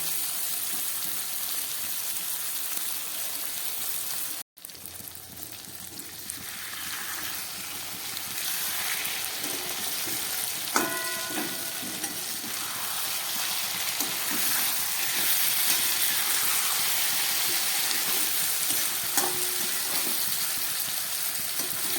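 Small freshwater fish frying with spices in a pan. An even, hissing sizzle runs throughout, broken by a brief dropout early on and a few faint utensil clinks.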